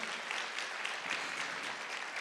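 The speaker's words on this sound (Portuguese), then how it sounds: "vamos aplaudir ao Senhor" A church congregation claps steadily together, a dense, continuous wash of applause at moderate distance with no voices standing out.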